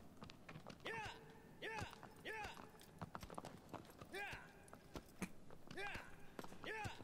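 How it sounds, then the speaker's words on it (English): Horse hooves clip-clop in the Shadow of the Colossus video game, a steady galloping rhythm of sharp repeated thuds alongside a background musical score with rising tonal swoops. "There's the horse, it emerges!"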